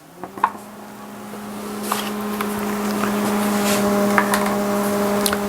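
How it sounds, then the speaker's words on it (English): A microwave oven runs with a steady, even hum while melting chocolate for a German chocolate cake, opening with a few sharp clicks and staying close and constant throughout. "I'm going to put this in the microwave."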